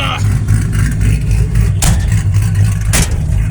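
A 1963 Chevy C10 pickup with a swapped 5.3 LS V8 revving while driving, a loud deep rumbling engine with rising and falling throttle bursts, close and continuous, with brief voices mixed in.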